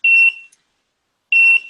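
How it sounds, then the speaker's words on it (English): A driving simulator sounds two loud, sharp electronic warning beeps, each lasting about a quarter second, with a gap of just over a second of silence between them. "And it's going to give a beep that's fairly similar to our system."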